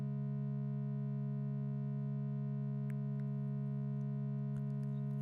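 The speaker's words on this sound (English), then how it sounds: "it creates like a slow beating sound" Steady sustained synth tone from a Reaktor synthesizer plugin with a slow beating pulse, a constant hum holding unchanged throughout, with a few faint clicks.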